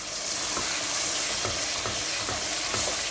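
Whole spices, including five cloves, three black cardamoms, black pepper and a cinnamon stick, roast in a pot of hot fat for a large batch of biryani, with a steady close sizzle broken by a few soft stirring scrapes and no talk.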